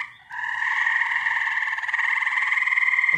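Tree frogs croak loudly and continuously by a backyard pond and pool, a dense, buzzing chorus with no speech over it.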